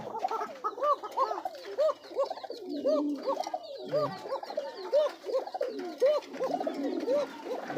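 Domestic pigeons coo in repeated rolling calls, close and fairly loud, several birds overlapping in a steady rhythm with faint background chatter.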